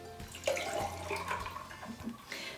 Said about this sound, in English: I'm gonna pour, I've already got some ice in here.